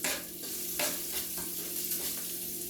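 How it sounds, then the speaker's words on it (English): Small pieces of bacon browning in a pan for a cabbage dish, a constant soft frying sizzle with the faint scrape of stirring, heard up close. "we are going to let our bacon brown a little bit"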